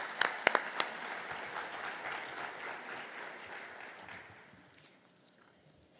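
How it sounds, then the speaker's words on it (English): Conference audience applause at an opening session: a room full of clapping with a few sharp near claps at the start, sustained then fading out over several seconds. "I just wanted to give a round of applause for those folks that are participating"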